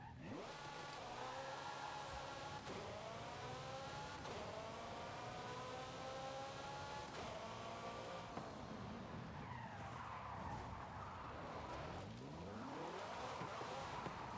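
A car in the Forza Horizon 5 racing game drives with a steady engine whine that rises and falls through gear changes, followed by long tire squeals as it skids through turns.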